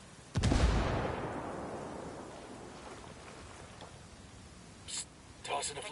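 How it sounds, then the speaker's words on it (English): A grenade goes off in the Ghost War video game: a single heavy boom near the start rolls into a long, rumbling decay, followed by a few brief noisy bursts toward the end. "Grenade, watch out!"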